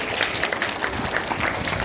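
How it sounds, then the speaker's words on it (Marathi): A school assembly crowd applauds the Gramonnati Mandal office-bearers on the first day of school, a dense, steady burst of clapping that fills the whole moment, loud and close. "सर्वांनी एकदा जोरदार टाळ्या ग्रामोती मंडळ पदाधिकाऱ्यांसाठी त्या ठिकाणी वाढवायचं"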